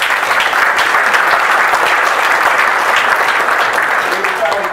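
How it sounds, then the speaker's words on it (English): Dense, steady audience applause fills a seminar room at a wealth and finance event, a sustained wash of many hands clapping at full strength throughout without a break. "can we give them a round of applause?"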